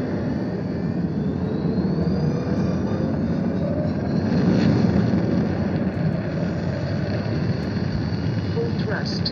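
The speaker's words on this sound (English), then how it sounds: "Full thrust engaged." A spaceship engine at full thrust blasting off in a video game, heard as a steady, loud, wide roar that holds for the whole stretch and swells slightly midway, like a jet or rocket rumble.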